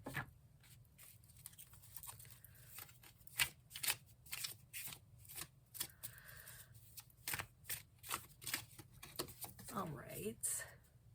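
A Hermetic Tarot deck is shuffled by hand up close, a run of quick riffling bursts and soft card slaps, with a brief faint breath or vocal sound near the end.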